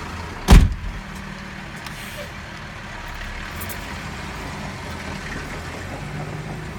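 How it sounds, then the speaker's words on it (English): A Spokane city garbage truck works a messy winter street; a sharp loud bang opens, followed by a steady nearby engine rumble. "Garbage truck number 2."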